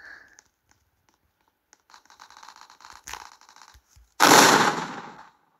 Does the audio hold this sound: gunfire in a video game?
yes